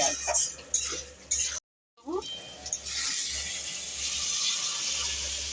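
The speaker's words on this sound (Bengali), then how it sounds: "ভালো করে কষিয়ে নিচ্ছি" Ghugni masala stir-fried in a pan: intermittent scraping and clinking of a spatula against the pan, a brief gap of silence, then a steady soft sizzle, with a voice speaking in parts.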